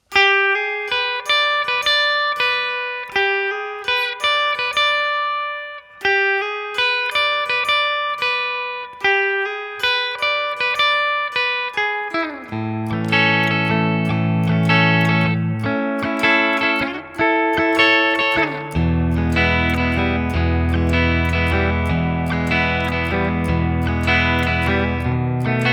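An electric guitar plays a twangy solo section, starting with a lead-in note and choppy single-note runs, then fuller bass-heavy picking, loud and close, no voices.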